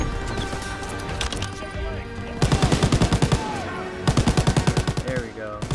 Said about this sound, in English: I'm gonna use this turret.